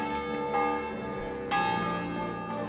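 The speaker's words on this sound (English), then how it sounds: "We have a bell." A church bell rings in the medieval game Kingdom Come: Deliverance, two resonant strikes about a second apart, each leaving a long ringing hum that lingers under the next.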